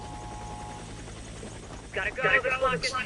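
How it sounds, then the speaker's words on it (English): A helicopter in the video game Warface: a steady low rotor drone runs under a spoken voice that comes in over the second half, moderately loud and continuous. "Get to the chopper, boys."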